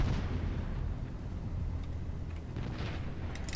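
Bombs dropped from a PV-2D Harpoon bomber explode in the video game War Thunder, a deep booming rumble that starts strong and slowly rolls off, with faint crackles near the end.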